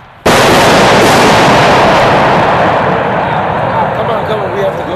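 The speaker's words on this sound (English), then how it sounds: "We just heard gunshots just outside this door." A sudden, very loud gunshot blast erupts close by, followed by a long, roaring reverberant rumble that slowly fades.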